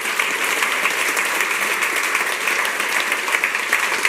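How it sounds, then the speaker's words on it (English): Audience applause at the Front Conference closing keynote in Zurich, welcoming speaker Jeremy Keith: dense, steady clapping from a large crowd filling the room for about four seconds, loud and even throughout. "I give a very warm welcome and a big applause for Jeremy Keith"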